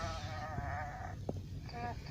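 A cartoon face character imitates a sheep's bleat with its voice, giving a wavering, trembling baa that rises and falls, followed by brief speech-like sounds and a short click, all close and fairly loud.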